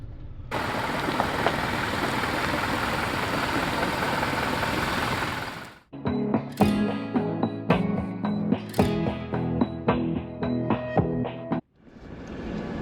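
A 2024 Toyota LandCruiser 2.8 turbo diesel with six-speed automatic drives around town: a steady, dense engine drone, then a quieter stretch of rhythmic diesel clatter and knocking, close and without talk.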